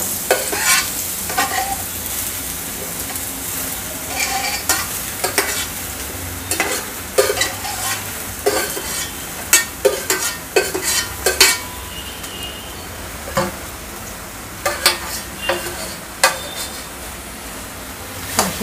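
Ridge gourd stirred and sautéed in oil in a pan, with a constant close sizzle broken by repeated sharp scrapes and clinks of the spatula against the pan at an irregular rhythm; no voices.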